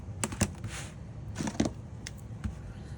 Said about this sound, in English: I'm gonna use a rotary cutter and a ruler just to get my straight edges here